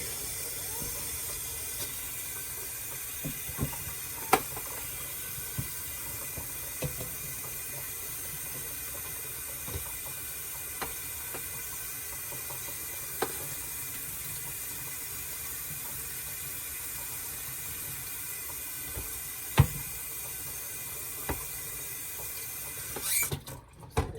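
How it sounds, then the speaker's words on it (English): Kitchen tap running steadily into a sink while dishes are washed up during cauliflower mash cooking, a soft continuous hiss with occasional faint clinks and knocks, ending with a louder clatter. "I'm going to wash this up real quick."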